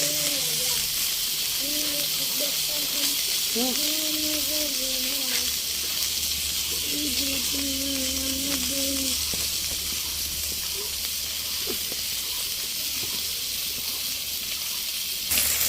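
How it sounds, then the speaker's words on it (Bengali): Onion and chili frying in hot oil in a pan, after fish were fried, giving a steady, close hiss and sizzle throughout while someone talks over it. "দেখো আমি পেঁয়াজ লঙ্কা দিয়ে এখন ভাজতেছি"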